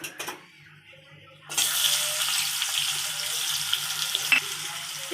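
Chopped onion drops into hot oil in a kadai and bursts into a loud, steady sizzle after a quiet start. The frying holds on with a few light clinks from the pan.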